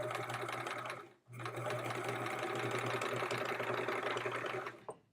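A home sewing machine runs steadily at close range, a continuous whirring hum with a brief pause near the one-second mark before it resumes; no one talks over it.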